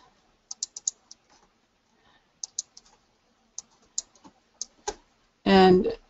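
Keys are tapped on a computer keyboard in short quick bursts, crisp and close, with pauses between groups, followed by a brief louder voice at the end.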